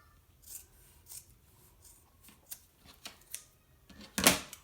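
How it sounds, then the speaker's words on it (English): Scissors cut through T-shirt fabric in a series of soft, separate snips, close and fairly quiet, ending with one sharper, louder cut. "So I'm just going to cut"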